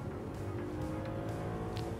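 Original Audi S8 V8 engine accelerating hard toward high revs, a steady dense drone that holds loud and close throughout with no talking over it.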